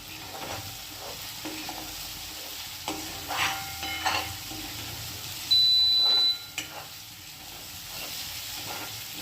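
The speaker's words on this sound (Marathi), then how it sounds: "याच्यात आपण थोडासा कोथिंबीर टाकू फोडणीमध्ये." Fresh coriander leaves sizzling in a hot spice tempering for a black gram (urad) dish, a soft steady fry with intermittent spatula scrapes and stirring knocks, plus a short high tone midway.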